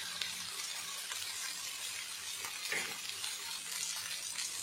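Green fish frying in oil in a pan, a steady, dense sizzle that continues without a break throughout at moderate loudness.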